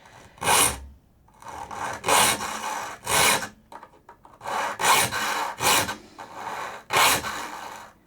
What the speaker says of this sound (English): I'm only filing on the push stroke here